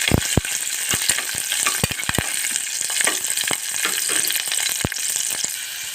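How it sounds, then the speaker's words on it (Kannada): Mustard seeds, cumin, curry leaves and green chillies sizzle loudly in hot oil, a dense crackling hiss punctuated by sharp spattering pops, close and continuous. "ಸಾಸಿವೆ ಜೀರಿಗೆ ಹಾಕ್ತೀನಿ ನೋಡಿರಿ ಸ್ವಲ್ಪ ಕರ್ಬೇವು ಹಾಕ್ತೀನಿ ಮತ್ತು ಹಸಿಮೆಣ್ಸಿಕಾಯಿ ಹಾಕ್ತೀನಿ"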